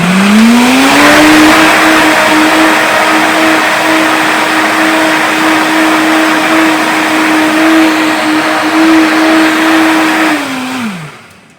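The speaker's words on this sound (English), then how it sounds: "So I'm going to blend this up and taste it before I add the ice and the whey protein" A blender whirs loudly and steadily for about ten seconds while blending a protein shake made without ice or whey powder yet, then winds down as it is switched off.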